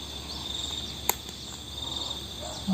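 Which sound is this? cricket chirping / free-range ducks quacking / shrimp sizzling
cricket chirping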